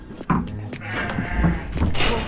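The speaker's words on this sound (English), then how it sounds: "The small sheep with the big horns. Let's run them out and we'll get a look at them." Small North Ronaldsay rams with big horns bleat loudly and close by, several overlapping calls in quick succession, with rustling and movement around the pen.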